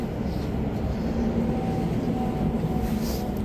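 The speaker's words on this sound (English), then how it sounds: "it's a very nice train" Steady low rumble inside an SWR class 701 suburban train running near Wokingham, a continuous broadband drone with a faint high whine, no talking.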